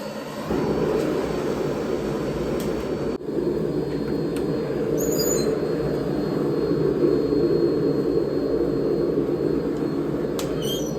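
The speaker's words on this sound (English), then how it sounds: "let's go ahead and light that forge and get the billet hot" Gas forge roaring steadily as it heats a Damascus steel billet, a dense continuous broadband rumble with a brief dip partway through and faint high clicks.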